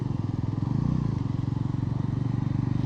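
A Bajaj Pulsar NS 400Z motorcycle runs steadily while being ridden, its engine giving a loud, rhythmic thrum with fast regular pulses that continue throughout, along with a little rattle and wind noise.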